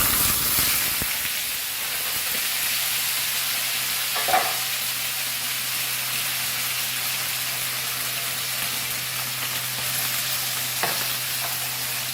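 Potatoes fry in a pan on high flame, a steady broadband hiss and sizzle with occasional soft stirring clicks and a low hum underneath, no talking.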